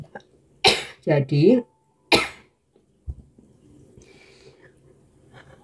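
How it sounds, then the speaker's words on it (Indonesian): Two or three sharp, close coughs come from a woman in a quiet room, clustered near the start and followed by softer breathy sounds, with brief speech between. "aduh maaf ya, aku agak batuk."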